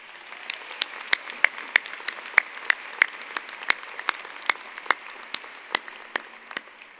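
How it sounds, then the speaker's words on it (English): Applause for a poem at a humanities and fine arts college graduation ceremony, with crisp individual claps ringing out in a steady, moderately paced rhythm over a softer bed of clapping from the audience. "Let's give Wheels another round of applause"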